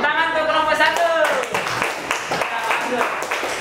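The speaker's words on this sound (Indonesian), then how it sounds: "Tepuk tangan untuk kelompok 1." Children in a classroom clap together for a group, a dense burst of applause that follows a raised voice and continues steadily under chatter.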